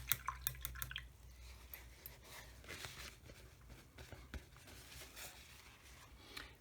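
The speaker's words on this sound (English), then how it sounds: "So just to rinse that brush off again." A gouache paint brush is swished and tapped in water, giving a quick run of drippy clinks at first, then softer sloshing and squishing, close and quiet.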